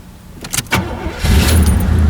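Old Oldsmobile Cutlass catching on the second attempt: brief starter clicks and cranking, then the engine fires and settles into a loud, close, rumbling run.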